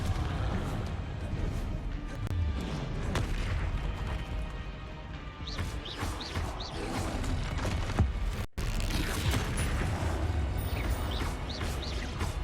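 Repeated booming blasts and crackling bursts from the Confringo fire spell in Hogwarts Legacy, dense and loud throughout, with a brief dropout near the end before the explosions resume.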